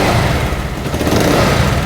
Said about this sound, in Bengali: বাইকটা কিন্তু স্টার্ট করছি ইনশাল্লাহ।